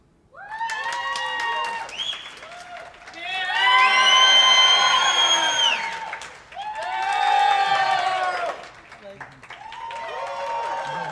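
A seminar audience on closing MLM prospects bursts into loud cheering, whoops and clapping in three swelling waves, voices shouting over the applause and dipping briefly between surges.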